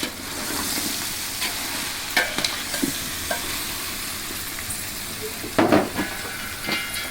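Rice being stirred with salted jackfruit pieces for jackfruit biryani, a steady soft scraping and sizzling with a few louder stirring scrapes, no talk.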